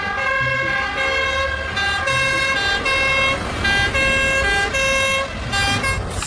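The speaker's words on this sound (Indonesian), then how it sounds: "yang ini mobil pemadam" Toy fire truck siren wailing loud and close in a steady electronic up-and-down cycle, running continuously without pause.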